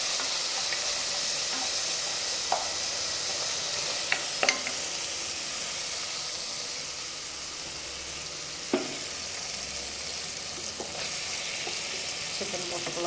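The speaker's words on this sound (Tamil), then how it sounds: "போட்டு அதோட பச்சை வாசனை கொஞ்சம் போக வரைக்கும் வதக்கிட்டு" Ginger garlic paste sautéing with mashed tomatoes in a pan, a steady close sizzle and hiss with occasional soft scrapes and clinks of a stirring spoon, no talk.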